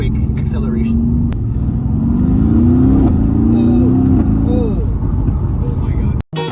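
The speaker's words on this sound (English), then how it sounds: "Do one more quick acceleration" A Mercedes-AMG GT S accelerates hard, its engine note climbing through rising pulls and gear changes, loud and close from inside the car, with people talking over it.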